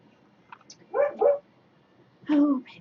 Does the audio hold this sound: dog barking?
yes